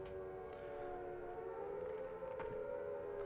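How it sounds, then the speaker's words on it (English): Sirens drone steadily through a Silent Hill video game scene, a sustained wailing tone that fills the whole stretch at moderate loudness with no talk over it. "And listen to that, we've got our sirens again."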